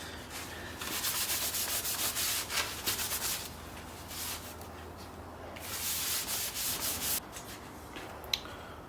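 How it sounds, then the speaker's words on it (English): Continuous hand sanding of a carbon fibre pod cover skin for an MX-5 NC cowling, a close, steady raspy rubbing with brief pauses and changes in stroke. "See if there's any other bits that we need to sand down"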